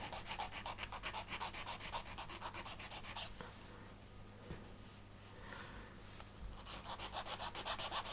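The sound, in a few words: filing and rounding the corners of a wooden model boat part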